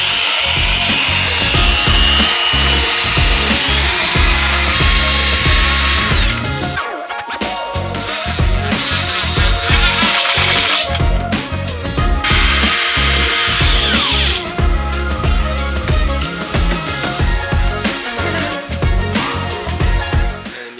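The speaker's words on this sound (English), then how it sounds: "So we're just putting in some normal wood screws, screwing right through into the ply." A power drill drives ordinary wood screws through plywood during a kitchen build, with long loud whirring runs broken by short pauses and bursts of screwing.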